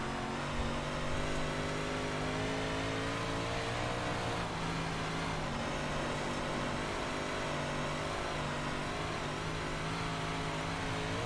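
Dirt 358 modified race car engine in an iRacing sim race at Weedsport, a loud steady drone with layered harmonics, revving and pulling hard off a corner for the full stretch, with no voices over it.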